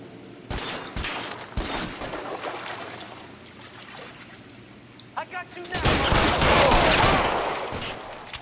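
Gunfire in the video game L.A. Noire, with scattered sharp shots early on and a dense, loud burst of rapid fire near the end, heard alongside a speaking voice.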